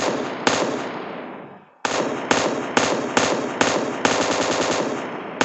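Automatic gunfire from the mobile battle-royale game PUBG Mobile, loud and close: a sustained burst that fades away, then after a short gap several rapid bursts with sharp repeated attacks.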